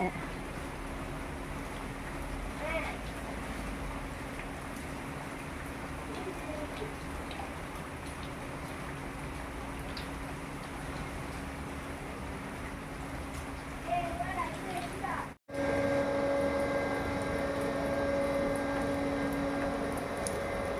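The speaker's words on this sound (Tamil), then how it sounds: "மழை நல்லா பெஞ்சிட்டு இருக்கு." Heavy rain falls in Chennai in a steady, dense hiss, with a voice speaking over it; a brief cut near the end gives way to a clearer, tonal stretch.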